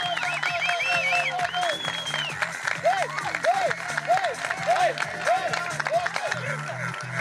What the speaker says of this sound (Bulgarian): Вашите аплодисменти, дами и господа, Здравко Занев!